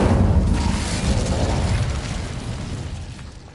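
Incendio fire spell cast in Hogwarts Legacy, a loud roaring burst of flame that swells and slowly fades, alone without talk.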